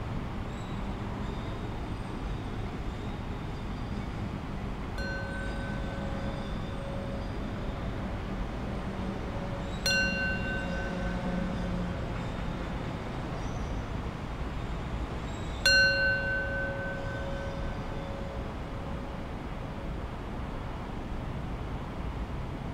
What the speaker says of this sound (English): let's draw our practice to its close with 3 rings of the bell.